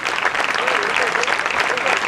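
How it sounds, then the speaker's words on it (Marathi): Loud, steady applause from an audience at a bridal modelling event in Latur, Maharashtra, honouring the brides; dense continuous clapping fills the short stretch. "जोरदार टाळ्या या सगळ्या वधूंसाठी"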